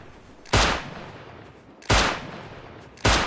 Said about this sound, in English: Hear your gunshots.